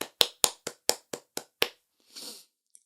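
A person clapping their hands alone, eight sharp, close, evenly spaced claps in a quick rhythm, followed by a short breathy rustle and one faint tap.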